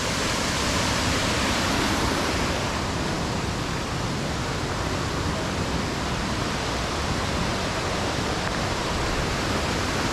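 A creek in Finch Hatton Gorge flows with a constant, dense rush of water that stays steady and loud throughout, and no voices can be heard.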